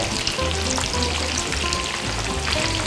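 Food sizzles steadily in a frying pan, a dense, even crackle of hot oil filling the whole clip close up, with faint stirring and no voices.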